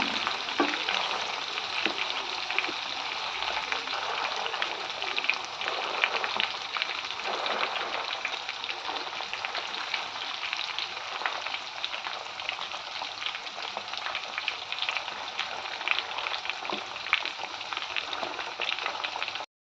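Quail pieces fry in hot oil with a dense, steady crackling sizzle that stays loud and even throughout, with no voices.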